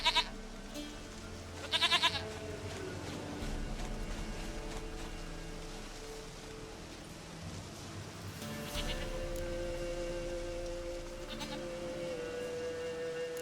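Goats in The Witcher 3 bleat in several drawn-out, quavering calls over a low steady game ambience, one loud near cry at the start and another swelling call later.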